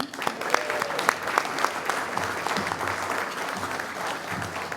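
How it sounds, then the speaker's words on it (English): Enthusiastic audience applause at a media awards ceremony, a dense steady patter of many hands clapping with a few louder claps standing out, continuing throughout. "you guys are gonna have to clap extra loud for this one"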